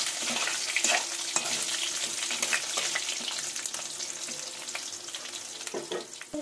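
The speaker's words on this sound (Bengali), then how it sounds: "আলুগুলোকে লাল লাল করে ভেজে নেব" Potatoes with turmeric frying in oil in a pan, a continuous close sizzle with crackles and occasional stirring scrapes.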